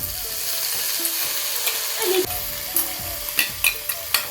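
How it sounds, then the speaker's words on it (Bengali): Chopped onion, potato, cucumber and green chilli fry loudly in hot oil for egg chowmein, a steady close sizzle broken by scraping stirs toward the end, with no talking. "গরম হয়েছে এখন দেওয়া দিব পেঁয়াজ কুচি কেটে রাখা আলুটা শশা কাঁচা লঙ্কা এখন দিয়ে দিব"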